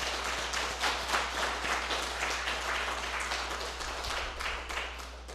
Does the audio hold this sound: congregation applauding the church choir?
yes